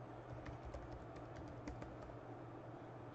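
Typing on a computer keyboard while entering an email address, with quick, close, irregular key clicks against a quiet room.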